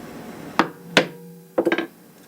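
Leather chisel struck with a mallet during leather crafting: two sharp separate knocks, then a quick burst of four rapid taps, close and crisp, with a faint ringing tail and no talking.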